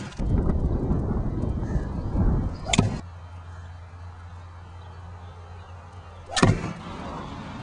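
Golf ball size hailstones strike a foam spa cover in two sharp, loud thumps a few seconds apart, each standing out from a low, steady outdoor background.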